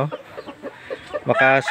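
Aseel and native chickens cluck softly in a divided cage in a short run of close, low calls, ending with a louder, drawn-out squawk.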